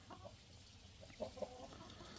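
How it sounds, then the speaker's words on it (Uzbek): German turkey chicks calling on a farm, with faint, brief peeping chirps scattered across a quiet background, a couple of them slightly louder near the middle. "Mana do'stlar, buni jo'jalari."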